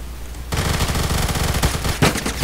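Kriss Vector submachine gun firing in the Phantom Forces online shooter, a loud, dense stream of rapid automatic shots with a sharp burst near the end, no talking.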